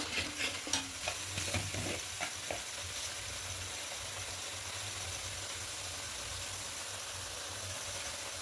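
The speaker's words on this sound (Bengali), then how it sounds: "এবার টক দই দিয়ে খুব ভালো করে কষে থাকবো আর এখানে পরিমাণ মতো লবণটা অ্যাড করে দেবো" Spice masala and sour yogurt stir-fried in a pan for paneer chana masala, a steady broad sizzle with scraping stirs and spoon knocks early on, close and continuous with no talking.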